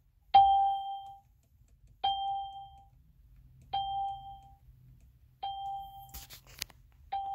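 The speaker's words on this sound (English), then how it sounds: "And the chime is coming through my speaker." An external TPMS tire pressure sensor on an FJ Cruiser triggers its low-pressure alarm chime through a small speaker: five clear, identical electronic dings spaced about every one and a half seconds, with faint handling noise between them.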